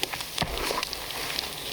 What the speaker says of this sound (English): Alright, dinner's sizzling.